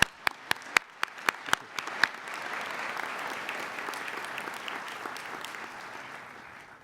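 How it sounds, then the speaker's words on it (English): Several sharp, separate claps ring out first, then a convocation ceremony audience swells into sustained, full applause that slowly fades, heard from within the hall. "Now you can applaud."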